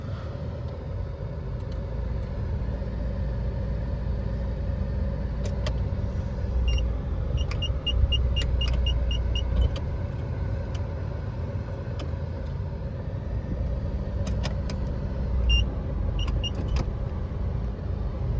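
A 2008 Honda City on a test drive: steady low engine and road rumble from inside the cabin, with scattered faint clicks and ticks over the drone throughout.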